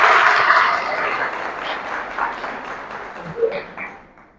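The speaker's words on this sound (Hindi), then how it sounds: "एक बार इनके लिए जोरदार तालियां हो जाए भाई" A crowd at a network marketing meeting claps for a team member, a brief burst of applause that fades out after a few seconds.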